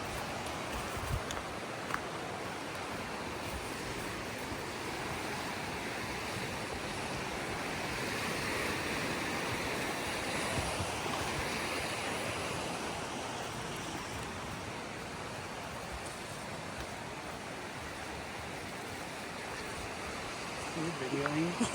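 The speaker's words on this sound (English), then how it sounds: "let's take a moment to enjoy the river sounds as we walk through the moss-covered trees and fern-covered paths" A river flows steadily beside a forest trail of moss-covered trees and ferns near Madison Falls in Port Angeles, Washington, in winter, a broad continuous rushing wash heard for a long stretch without speech.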